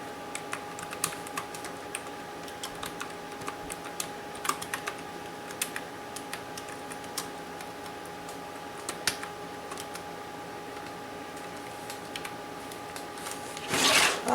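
Steady clicking keystrokes on a computer keyboard, a quirky one on an older PC setup, tapping at an irregular pace over a constant electronic hum, fairly quiet and close, ending with a louder clatter.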